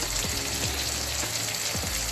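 Pancit sizzles steadily in a hot pan after the soy sauce goes in, a constant close frying hiss with faint low bumps now and then, no voices.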